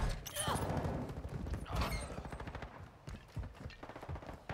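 Decoy grenades in an online shooter video game imitate gunfire, giving bursts of rapid, moderately quiet automatic shots amid clattering battle noise.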